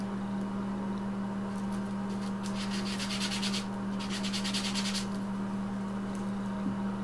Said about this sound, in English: just hold it with your finger while you're sanding each area